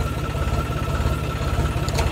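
A tractor engine runs with a steady low, chugging idle and a regular rhythmic pulse of firing strokes throughout, loud and close, with a faint higher sound near the end.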